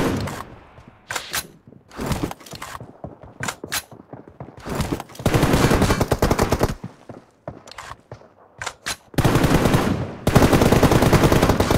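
Team deathmatch video game gunfire crackles in rapid automatic bursts and single shots, loud and close, with short gaps between volleys and a longer sustained stretch of firing.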